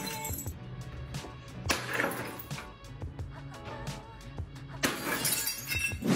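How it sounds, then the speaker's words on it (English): Glass breaks in repeated crashing, shattering bursts amid ongoing clatter and tinkling fragments, close and moderately loud, with two especially sharp impacts separated by a few seconds. "breaking glass is so satisfying"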